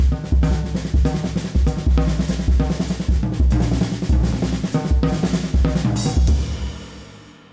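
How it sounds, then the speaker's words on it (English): Rapid paradiddle-diddle patterns rolled around the toms of an Adams Air Z drum kit, mixed with bass drum thumps, loud and continuous, with cymbal wash near the end and no voices. "I'll do it on the toms."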